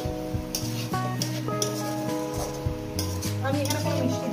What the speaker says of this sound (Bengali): দিয়ে আমি মিনিমাম আরো 1 মিনিট এটাকে ধনে পাতা দিয়ে একটু নাড়াচাড়া করে নেবো।